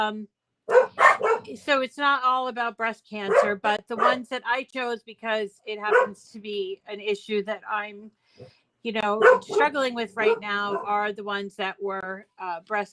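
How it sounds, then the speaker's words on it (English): Dogs bark in the background on trash day while a person talks continuously in the foreground, the barking mostly buried under the speech. "Sorry about the dogs."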